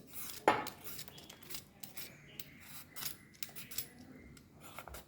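A knife cuts a raw green papaya on a kitchen surface, with a sharp contact tap near the start followed by soft scraping and light scattered knocks, close and quiet.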